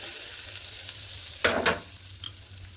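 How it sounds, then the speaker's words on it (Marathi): Hot oil tempering with turmeric and asafoetida hits green chilli thecha, giving a sudden short sizzle burst over a low kitchen hum, then a faint crackle as it settles. "फोडणी द्यायची"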